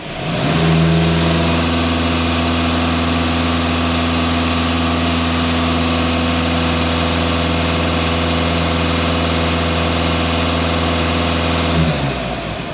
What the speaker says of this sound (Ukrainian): можна газувати